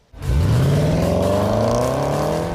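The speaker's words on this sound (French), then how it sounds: "le V8 du Range SVR chante fort et juste du coup de démarreur jusqu'à la zone rouge" A Land Rover Range Rover Sport SVR V8 fires up and revs hard, its loud, close engine note climbing steadily in pitch with no pause.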